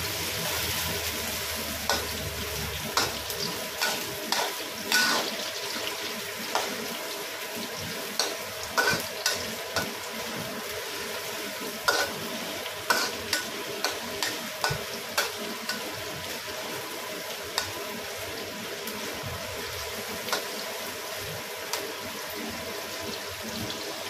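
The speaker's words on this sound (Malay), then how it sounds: "Kita masak bawang Holland sehingga dia kekuningan guys." Sliced Holland onions fry in oil until golden for Pakistani biryani, a steady soft sizzle with repeated clinks and scrapes of stirring throughout, no talking.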